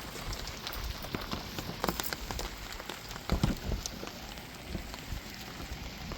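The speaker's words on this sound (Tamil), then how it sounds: "நல்லா மழை இப்போ பேஞ்சிக்கிட்டு தான் இருக்குது" Night rain falling outside a village, a steady wash of drops on surfaces with scattered louder close splashes and patters, fairly soft and continuous with no talk.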